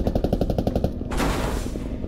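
A helicopter door gunner opens up in Squad: a fast, steady burst of heavy automatic fire for about a second, then a loud rushing roar of the aircraft takes over.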